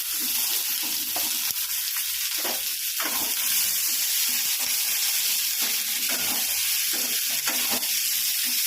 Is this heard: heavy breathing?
no